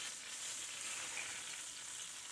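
Beef pot roast searing in a pan over medium-high heat gives a steady, soft hiss and sizzle that runs unbroken throughout, with no voices.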